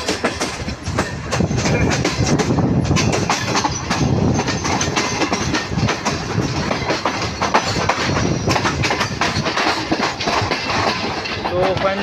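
The 17 Up Millat Express passenger train departing Khanewal Junction in Pakistan, heard from onboard as a loud, continuous rumble with steady rhythmic wheel clatter on the rails throughout.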